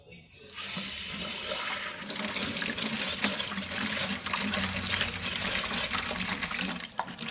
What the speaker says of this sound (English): Let me flush it the other way and see what happens.